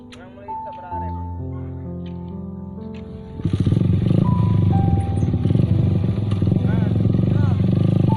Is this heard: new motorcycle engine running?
yes